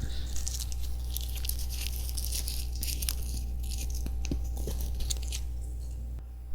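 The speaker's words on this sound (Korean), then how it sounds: "일단 사탕을 빨아먹어야겠죠?" Vitamin candy being eaten close to the mic, with continuous crunching and biting under a steady low hum, no talking.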